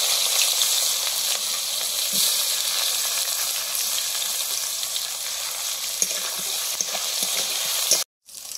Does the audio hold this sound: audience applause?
no